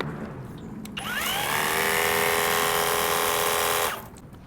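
A Hajime Jet C cordless brushless pressure washer, nozzle removed, spins up with a rising electric whine, holds a loud steady motor hum for a few seconds, then cuts off.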